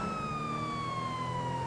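A police car siren from the game GTA 5 wails steadily with a slowly falling tone over continuous engine and road rumble, loud and close throughout.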